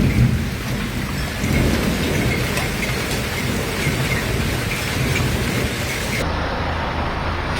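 Heavy rain pours steadily during a thunderstorm with flash flooding in southern Bratislava, Slovakia, a dense, loud roar of drops on surfaces with low rumbling beneath, continuous throughout with no voices.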